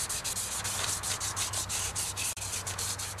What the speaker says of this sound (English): I sand it down with a 400 to take off any little lines that the sander may have left